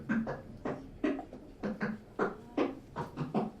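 Quiet, hollow plastic clicks and pops in an irregular rhythm, like a bottle being squeezed and tapped close by.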